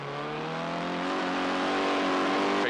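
Formula 1600 race cars at Trois-Rivières in 1995 howl close by as they head toward the Ryan hairpin, engines climbing steadily in pitch and staying loud throughout.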